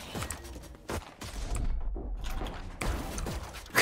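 Gunfire in the shooter game Valorant, with several bursts of rapid shots and sharp cracks spread across the clip, fairly close and punchy, separated by brief lulls with background game noise.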